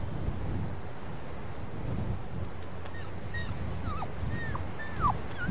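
In the WolfQuest video game, a wolf pup whimpers near a den with a string of thin, high, wavering cries over a low windy rumble.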